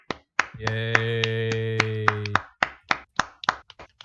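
Sharp, separate hand claps ring out near and loud, one after another in an uneven rhythm, following a sustained sung or shouted tone from a voice on a podcast.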